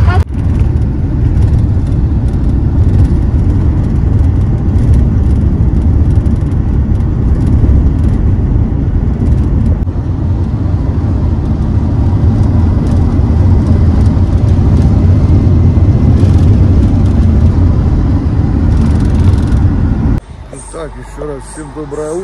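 A steady low rumble of a bus driving along the road to Cappadocia, loud and continuous inside the cabin, with a voice talking over it.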